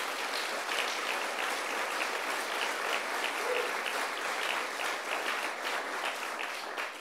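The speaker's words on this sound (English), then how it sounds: "Let's give them a round of applause." Audience applause at a New York University event honoring the lieutenant governor, dense steady clapping from a sizable crowd lasting throughout, without speech on top.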